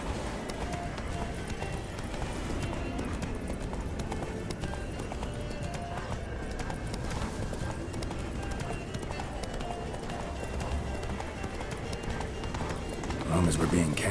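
A horse gallops in The Witcher 3 video game with a steady, fast clip-clop of hooves that runs continuously alongside game ambience and music.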